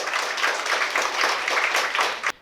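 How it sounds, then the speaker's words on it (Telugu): An audience clapping loudly for themselves at a motivational talk, dense continuous applause from many hands that fills the room and cuts off abruptly. "గట్టిగా చప్పట్లు కొట్టుకోండి మీకోసం మీరు"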